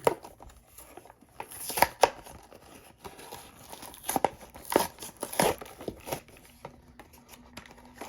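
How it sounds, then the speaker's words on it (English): A Star Wars Cad Bane action figure is pulled from plastic packaging with uneven crinkling, tearing and sharp rustling bursts up close. "So let's get this guy out of the packaging"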